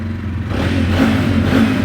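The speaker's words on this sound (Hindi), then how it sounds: "स्टार्ट अगर मैं करके दिखाऊँ आपको" A 2024 TVS Ronin 145 motorcycle engine runs with a steady low idle rumble that swells slightly as the throttle is blipped, close and loud with no talking.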